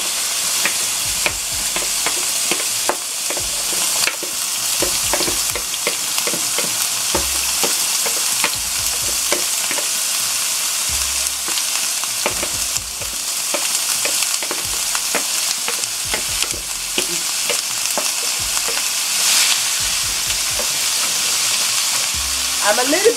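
Peppers and paprika fry in a hot pan with a loud, continuous sizzle, broken by frequent scraping and knocking as the food is stirred, close up and steady throughout.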